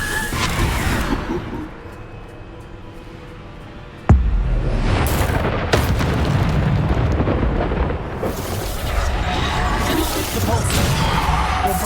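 Bombardo blasting spell exploding in the game Hogwarts Legacy, a loud sharp impact then rumbling, crashing debris and whooshing bursts with further blasts, dense and continuous throughout.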